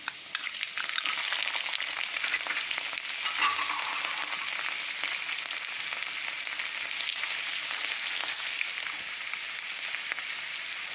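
Ginger frying in a hot pan for veg chowmein gives a loud, steady sizzle with faint scraping and stirring, unbroken for the whole stretch with no voices.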